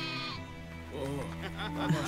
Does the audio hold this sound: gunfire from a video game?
no